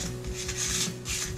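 Coarse 220-grit sandpaper rubs back and forth across a 1966 Mustang grille in quick, steady, close-up rasping strokes with no talk.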